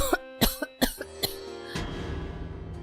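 A woman coughs several times in a quick, harsh series, close to the microphone, then the sound trails off into quiet room noise.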